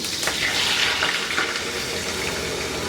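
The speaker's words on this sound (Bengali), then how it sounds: "উল্টা দিয়ে ওই দিকটা একটু ভেজে নিব" A large cabbage and egg omelette, just flipped, sizzles in a pan with a dense, steady, close frying hiss that continues throughout, with no talking.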